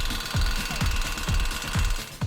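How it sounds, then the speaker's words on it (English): Steel chisel hammered against the hub nut of a 2006 Land Rover LR3 to crimp it in place, giving about six sharp, evenly spaced metallic strikes over a steady background hum. "you can actually see what the new crimp is like when I'm using a chisel to actually put it back in place"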